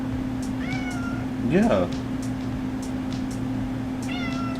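A cat meows repeatedly in rising and falling calls close by, over a steady low electrical hum, while a person briefly speaks.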